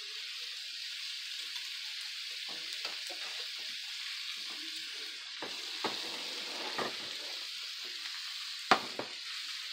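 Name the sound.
ribeye steak meat frying in a pan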